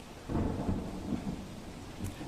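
Heavy rain pours steadily on Gondal's flooded streets with a low, rumbling roar, a dense continuous wash of sound close by and no voices.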